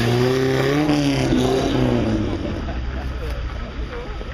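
A vintage Fiat Balilla Coppa d'Oro with a small engine drives through Bordeaux in winter, its humming drone rising in pitch early on, then settling into a rougher, quieter road rumble.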